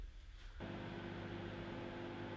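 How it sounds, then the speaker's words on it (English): A microwave oven switches on after a brief quiet moment, then hums steadily and evenly at close range without any talking. "so I'm going to bung it in the microwave"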